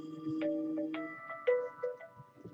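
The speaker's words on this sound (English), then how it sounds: "I need to take this phone call." A phone ringtone signals an incoming call, a soft melodic sequence of chiming tones stepping up and down in a quick tune, fairly quiet and heard alone.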